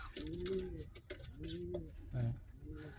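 Pigeons coo close by in repeated low, throaty rolls, a few distinct bursts with a brief pause between them.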